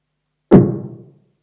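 A single punchy kick drum synthesized in Sytrus in FL Studio, deep and loud, with a sharp attack and a short booming decay, isolated in silence.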